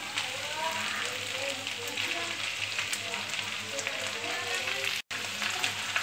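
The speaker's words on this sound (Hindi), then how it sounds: "माट की भाजी डाल दूंगी अब मैं," Amaranth greens, ginger and garlic fry in hot oil in a pan, giving a steady close sizzle and crackle that runs throughout with one brief cut near the end.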